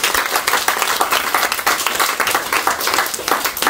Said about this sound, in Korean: 우리 A조를 향해서 박수 한번 드리겠습니다.